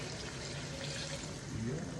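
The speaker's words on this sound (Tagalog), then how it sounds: "lagyan na natin ng tubig" Water poured steadily into a cooking pot of sautéed potatoes, a continuous close splashing rush with a voice murmuring faintly underneath.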